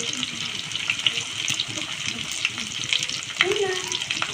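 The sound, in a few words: fish frying in pan with ginger and garlic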